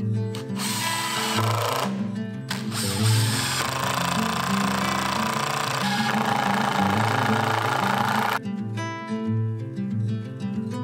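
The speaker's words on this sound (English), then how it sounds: "So I drilled a couple of holes in it." A power drill bores holes into square steel tubing on a small overhead crane build, whining and grinding loudly in stuttering bursts with brief pauses, no talking.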